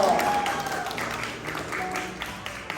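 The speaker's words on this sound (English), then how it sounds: "Let's give her a big round of applause as well." Applause from a school audience follows an elementary student's speech in Arcadia, Los Angeles, a moderate steady patter of clapping that slowly fades over a few seconds, with faint voices and whoops mixed in.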